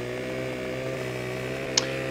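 A chainsaw cuts trees in Farming Simulator 15, its engine holding a steady, sustained drone at a constant pitch throughout, with one brief sharp click near the end.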